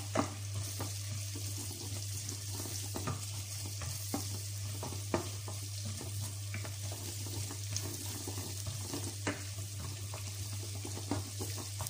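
Cooking pot wobbling on a stove while wine creamy chicken with bacon cooks, giving irregular light knocks and rattles over a soft sizzle and a steady low hum.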